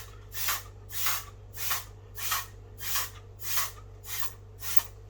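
Red color is sprayed onto wax paper in eight evenly spaced hissing bursts, each about half a second long, close and crisp, with no talking.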